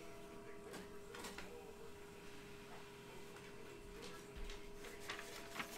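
A printer runs just after a new toner cartridge has gone in, giving a faint steady mechanical whirr with a few soft clicks and ticks scattered through it.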